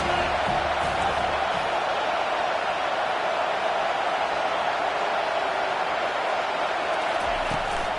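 Football stadium crowd roaring steadily for the full stretch, a dense, loud wash of cheering and noise with no breaks, heard from within the stands.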